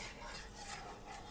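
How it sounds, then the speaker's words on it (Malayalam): Flour batter is mixed in a large bowl, a brief, quiet, continuous scraping swish of the stirring close by, with no voices. "ഇത് മിക്സ് ചെയ്യുന്നതാണ്."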